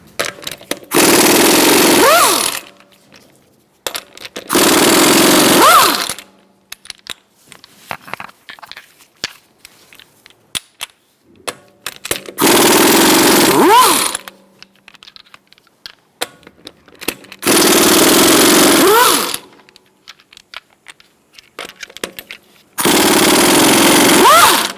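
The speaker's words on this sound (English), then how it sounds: "Using a 19mm socket, we're going to remove our wheel" Lug nuts come off a 2012-2018 Ford Focus front wheel with a 19mm socket: five loud, rattling power-tool bursts of a few seconds each, close by, separated by quieter handling noise.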